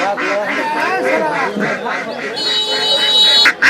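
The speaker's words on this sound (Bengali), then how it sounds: "দেখেন অনেকগুলা মোরগ মুরগি তারপরে হাঁস নিয়ে আসছেন।" Domestic ducks quack repeatedly in quick rhythmic bursts at a village poultry market where chickens and ducks are brought for sale, loud and close, with a brief sharp noise near the end.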